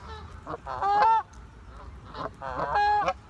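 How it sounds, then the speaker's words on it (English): Wild geese honk loudly and close by in two bursts of harsh, repeated calls separated by a short pause, with outdoor background noise. "it sounds like this goose right here"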